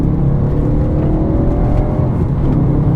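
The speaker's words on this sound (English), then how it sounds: "one of these Audi V8s, you know, they're not the most powerful engines in the world, but the response and just the way that they absolutely love to rev" An Audi V8 engine rumbles loudly and steadily from inside the car on a long road trip, a deep continuous drone with slight rises in revs throughout.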